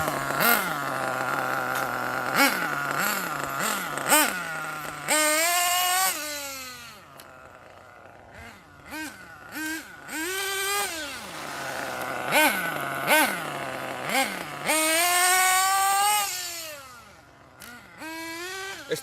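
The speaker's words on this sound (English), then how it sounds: "The little engine just growls, man. I like how she growls." A Hot Bodies HPI D8S nitro RC buggy engine on its stock pipe revs in repeated rising, snarling bursts with short pauses between them, loud and close.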